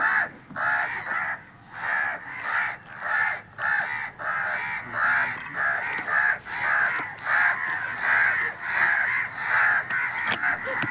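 A crow caws again and again, loud and close, in a steady rhythm of harsh calls with short gaps between them.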